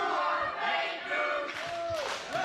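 A wrestling arena crowd at an independent show in Miami, Florida reacts with loud, sustained jeering and murmuring noise, swelling at moments with sharper shouts.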